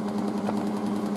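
A scroll saw with its guard removed runs at its slowest speed, giving a steady, close mechanical buzz with a fast even reciprocating pulse and no speech.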